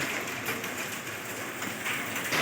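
Heavy rain pouring steadily in a Kashmir valley town market, a dense, even hiss of falling water filling the background without speech.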